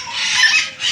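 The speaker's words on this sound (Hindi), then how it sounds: "देखिए परिंदों ने कितना शोर डाला हुआ" Noisy flock of birds, parrots by the look of it, in a zoo park: dense, bright chattering and squawking that stays loud and continuous throughout.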